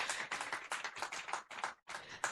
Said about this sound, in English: Let's clap for our ladies and gentlemen.